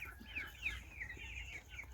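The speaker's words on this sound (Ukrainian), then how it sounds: "Шість, напевно, курочок і три півники." Backyard hens and roosters in a small mixed flock give short, overlapping clucks and murmurs, close by and moderately loud, in a brief run of chatter.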